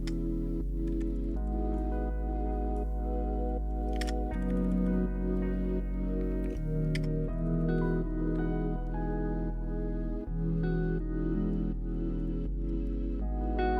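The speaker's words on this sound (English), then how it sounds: "You can actually see in Flashboy's hand cam him typing." Typing on a computer keyboard during a competitive game tournament, a steady run of quick key clicks in irregular bursts, fairly close and clear with no talking.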